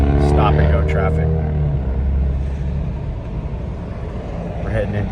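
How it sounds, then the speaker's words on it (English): Stop-and-go road traffic near Berkeley hums from inside a car, a low engine drone with a humming tone early on that then eases into steady rumble. "stop and go traffic."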